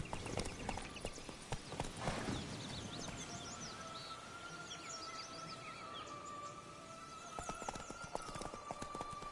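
Horse hooves clip-clop steadily at close range, with an occasional neigh and birdsong in the background and no talking.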